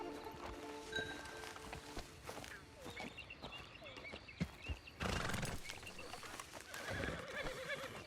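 Horse neighing and hooves clip-clopping in the Red Dead Online video game, a few whinnies and scattered hoofbeats nearby, fairly faint, amid other game sounds.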